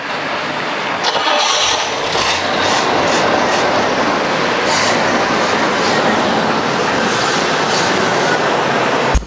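A 1973 Rolls-Royce Silver Shadow engine running steadily up close, a smooth continuous rumble with a broad hiss on top, holding an even level throughout.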